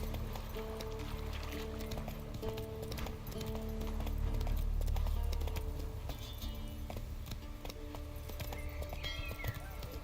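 A horse gallops in The Witcher 3 video game, its hooves clip-clopping steadily throughout over continuous game ambience and music. No one speaks.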